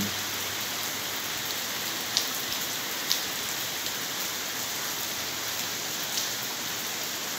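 Heavy afternoon rain in Ribeira do Pombal pours down in a constant close wash of noise, with a few sharper drip clicks standing out now and then.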